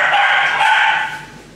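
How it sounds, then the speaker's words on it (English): A dog gives one loud, sustained bark or howl-like call close to the microphone, holding steady before tapering off. "you hear the big bark"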